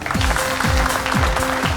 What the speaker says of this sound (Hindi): और जोरदार तालियों के साथ स्वागत कीजिए